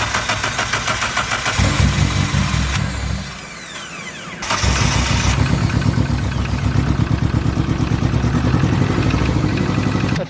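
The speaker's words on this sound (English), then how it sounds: "That is misfiring really bad, isn't it?" A big-turbo Toyota Starlet engine cranks and catches, stumbles briefly, then runs loud and rough with an uneven, choppy misfiring beat close by.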